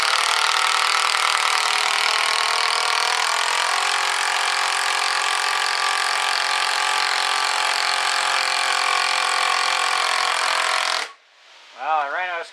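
A Ridgid cordless drill running on a 3 amp hour lithium-ion battery drives a screw into material in one long, steady, loud whir lasting about eleven seconds. It stops abruptly and a brief voice follows.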